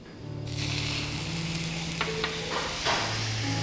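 Drops of water sprinkled onto a heating frying pan before stir-frying fried tofu pouches, setting off an abrupt, bright sizzle that holds steady, with a few sharp crackling pops as droplets skitter, close and with no voices.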